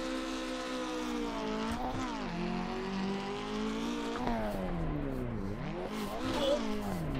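A video game street car roars through a jump drift, engine revs rising and falling in harmonic sweeps with tire squeal and skidding as it lands, loud and continuous throughout.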